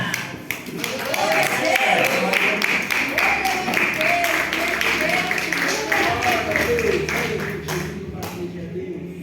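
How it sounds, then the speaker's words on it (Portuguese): Church congregation clapping together in steady applause, a dense sustained patter of many hands lasting several seconds under a voice speaking and then tapering off. "dando uma linda salva de palmas para o Senhor"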